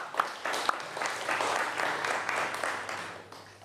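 Warm applause from a retreat audience, a continuous patter of many hands clapping together, a few louder individual claps standing out early before the sound gradually thins toward the end.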